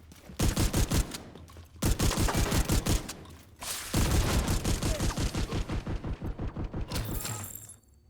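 Rapid automatic gunfire in a first-person shooter game, loud and close, in several long bursts of evenly spaced shots separated by short gaps, the last burst slowing and fading out.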